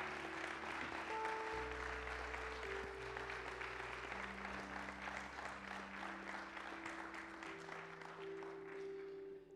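A church congregation claps and cheers in praise during a French-language sermon, a steady, dense wash of applause sustained across the whole stretch with sustained organ or keyboard tones underneath.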